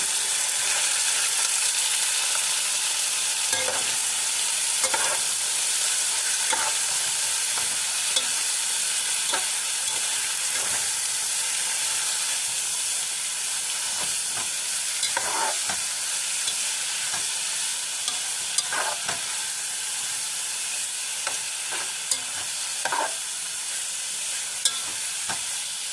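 Chicken pieces fry in hot oil in a pan, a steady close sizzle running throughout with repeated scraping clicks of a spatula stirring, no voices.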